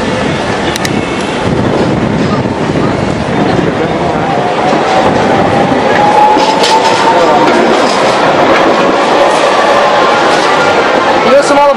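A tram rolls past during Advent in Zagreb, its broad rumble and rail noise swelling and holding steady at close range, while voices talk over it.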